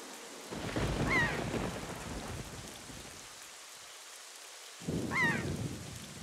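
Thunderstorm in The Legend of Zelda: The Wind Waker HD, with steady rain and two heavy rumbling thunder bursts separated by a quieter lull.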